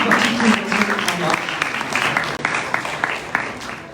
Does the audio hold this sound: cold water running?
no